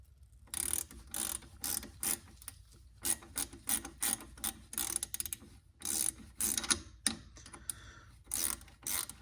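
A wrench works loose the factory brake line on a C6 Corvette with close, crisp clicking ratchet-like bursts in irregular short groups separated by quiet gaps, with no talk.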